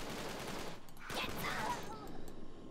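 A burst of gunfire from a toy-soldier battle game rattles in quick succession amid a dense, steady background of noise.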